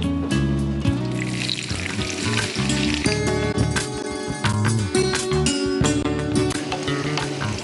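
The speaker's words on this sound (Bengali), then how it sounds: "তেলটা দেখি হ্যাঁ গরম হয়ে গেছে। এবার কি করতে হবে রান্নাটা? এটা বেশ একটা লম্বা পদ্ধতি। আমরা একটু জলও গরম বসিয়ে দিয়েছি। এইটা আমরা এখন পেঁয়াজ কুচি যেটা আছে সেটা দিয়ে দেবো।" Chopped onion frying in hot oil on a Zee Bangla cooking show, a dense steady sizzle running throughout, with what sounds like background music layered over it.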